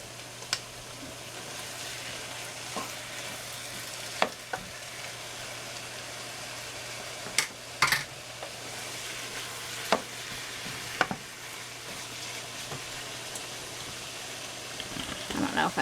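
Ground hamburger meat sizzles and fries steadily in a pan for an enchilada casserole, with occasional sharp scrapes and clicks as a utensil stirs it, a quiet voice briefly heard.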